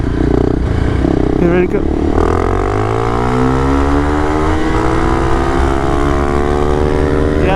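A Honda CRF300L Rally motorcycle accelerates hard through its gears. The engine note climbs in rising sweeps, close and loud, with a short gap at a shift, and a voice speaks briefly near the start.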